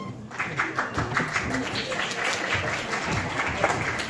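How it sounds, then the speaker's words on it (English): Audience clapping at an Islam, science and atheism conference session, a steady moderate patter of many hands filling the room for about four seconds with faint murmuring beneath. "Okay, enough clapping, you guys."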